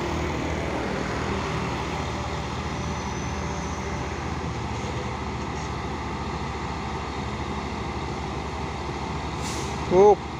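Tanker trucks, one carrying CPO and one from Pertamina, rumble past on a hill road in a steady, loud engine drone, ending in a short, sharp hiss of air brakes near the close.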